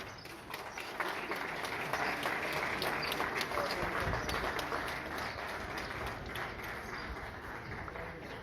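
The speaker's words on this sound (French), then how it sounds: "je vous demande de l'applaudir très très fort" A crowd applauds loudly on request, a thick continuous patter of many hands sustained for several seconds, with some voices mixed into the noise.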